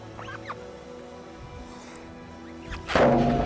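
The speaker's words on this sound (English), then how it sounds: "you can see the top glass has shattered here" A sledgehammer strikes a panel of a giant glass bridge in China: after quiet outdoor ambience with faint chirps, a single loud, sharp crack bursts out near the end and rings briefly.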